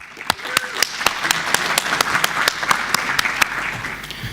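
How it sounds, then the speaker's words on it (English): Audience applause for a speaker named Stefan at the Asterisk-Tag.org 2008 conference in Berlin, heard as a steady wash of crowd clapping with a few sharp, regular claps standing out near the microphone. "Let's have a big round of applause for Stefan."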